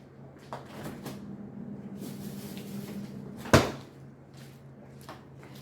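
A freezer door is opened to take out frozen Snickers bars, giving one sharp, loud clunk midway after some quieter handling and rustling, with a steady low hum underneath.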